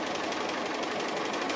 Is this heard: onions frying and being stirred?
no